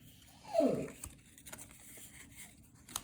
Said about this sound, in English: an ox puppy that is whining on the floor